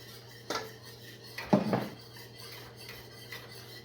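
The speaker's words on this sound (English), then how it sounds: "I gotta be ready for this and stir it as soon as you put it in" A spoon stirring cornstarch gravy in a pot, giving a few scraping, clinking strokes against the metal, close and fairly quiet over a steady low hum.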